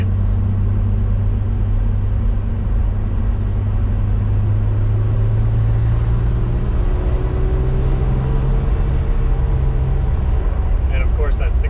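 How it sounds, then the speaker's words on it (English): A 1968 MG C GT's six-cylinder engine idles nearby in a steady low rumble with a faint rising tone in the middle, continuous throughout the clip. "And of course that 6-cylinder sound"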